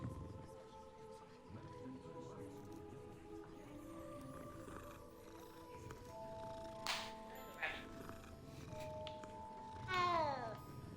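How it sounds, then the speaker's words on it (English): Cats meow repeatedly in a video game, a series of close, clear mews and a longer drawn-out call near the end, with someone talking over parts of it and game ambience underneath. "These cats seem to stay close to Screw-and-shaft's quill shop."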